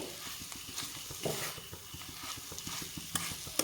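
A fork fluffs and tosses cooked vermicelli (shemai) in a pan for jorda dessert, producing soft repeated scraping and tapping strokes in an uneven rhythm over a faint sizzle, close and quiet.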